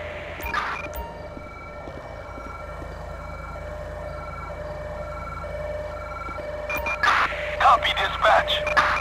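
A wailing ambulance siren in Grand Theft Auto V sustains a steady tone across the whole stretch, with louder clattering bursts near the start and end.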